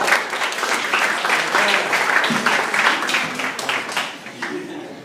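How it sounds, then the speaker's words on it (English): An audience at a teacher training session claps loudly and steadily, a thick wash of hands that carries on throughout with faint voices mixed underneath. "Another round of applause."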